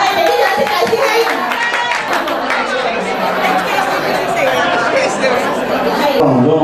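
Audience at a 30th-anniversary alumni association dinner claps amid lively chatter, the applause mixing with many voices for several seconds.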